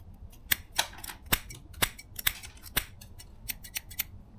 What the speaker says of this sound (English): Let's do the scissors. We know they're sharp because we tested them on my fingernail.